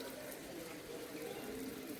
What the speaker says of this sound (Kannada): ನೋಡಿ ನೀರು ಬೀಳುದು